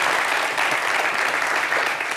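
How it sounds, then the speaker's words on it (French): A studio audience on a French-language talk show breaks into dense, continuous applause that stays loud and even throughout. "On applaudit ma capricieuse."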